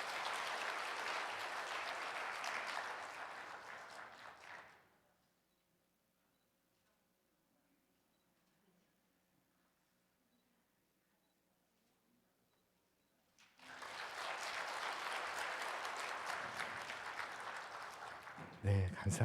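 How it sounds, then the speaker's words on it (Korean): Church congregation at a Sunday worship service breaks into applause, a dense sustained clapping that fades into near-silence for several seconds, then swells again into a second round of clapping. "큰 박수 하시겠습니다."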